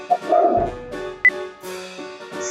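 A dog barking in short, separated yips and barks, mixed with other indoor sounds, moderately loud and close.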